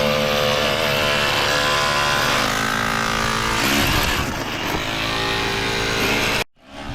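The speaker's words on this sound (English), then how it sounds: "Get our second drill online." A rock drill running at a tourmaline and aquamarine gem mine, a loud sustained mechanical drone with shifting engine tone that cuts off abruptly near the end.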